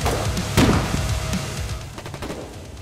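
Sniper fire in the war video game Foxhole: a sharp nearby shot near the start, then fainter clicking and rattling noises as the reverberation fades.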